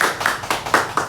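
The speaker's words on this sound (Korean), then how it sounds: "큰 박수" At the end of a lecture, an audience gives a short burst of applause: five or so crisp, evenly spaced claps, close and fairly loud, with no talking.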